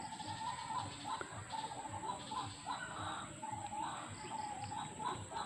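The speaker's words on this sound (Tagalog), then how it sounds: "Maingay yung ibon guys." A noisy bird calls repeatedly from a bamboo clump in a rural Philippine yard, its bright, insistent cries recurring every second or so over a busy outdoor background.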